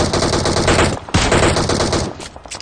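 Rapid automatic gunfire in PUBG Mobile, loud and close, in dense bursts across the clip with a short gap around the middle before firing resumes and then thins out.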